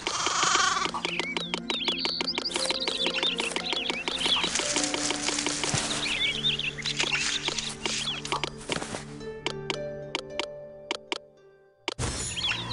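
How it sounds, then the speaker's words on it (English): Sheep bleat repeatedly in the city-building game Master of Olympus: Zeus, layered calls over a steady game soundscape with chirping birds and tapping footsteps, fairly loud and continuous before thinning out near the end. "Make some sheep here."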